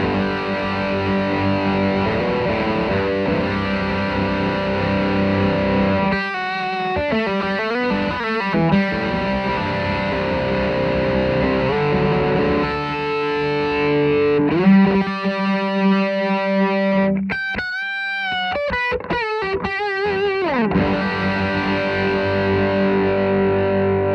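Electric guitar played through an Ethos TWE-1 overdrive pedal, sustained distorted chords and bending, wavering lead notes, loud and close with a compressed top end, no talking.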